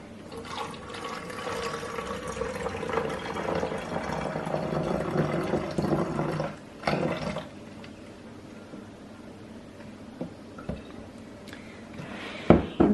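Liquid pours steadily into a bottle for several seconds, then stops, leaving quieter handling noises and a few soft knocks.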